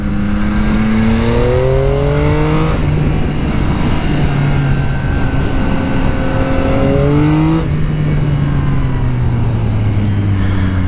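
2022 Yamaha XSR900 motorcycle accelerating on a ride, the engine note climbing through gears with brief dips at shifts, loud and continuous over steady wind rush.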